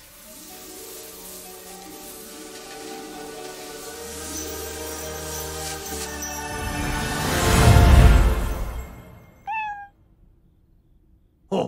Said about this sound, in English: Oh, oh, it's a cat!